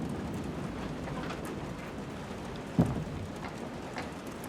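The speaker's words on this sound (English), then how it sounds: "It's raining." Steady rain in a scene from the video game Detroit: Become Human, a constant soft hiss filling the background, with one brief thump partway through and no voices.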